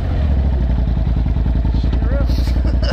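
A big-turbo 270 hp Polaris RZR Turbo S side-by-side sits idling close by, its engine putting out a loud, steady, throbbing pulse with some clatter, while people talk over it.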